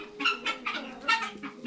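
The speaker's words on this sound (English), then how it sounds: "Chickens are searching for corn in the paper now." Several chickens cluck and murmur in short, overlapping bursts at close range as they scratch through shredded paper bedding hunting for corn, with a steady low hum beneath and no talk.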